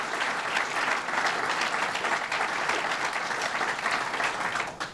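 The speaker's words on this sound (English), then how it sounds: "Let's give her a round of applause and thank her for her leadership." An audience at a Start-Up NY event with Governor Andrew Cuomo breaks into steady, sustained applause, a dense wash of clapping hands that holds evenly for several seconds before tapering slightly at the end.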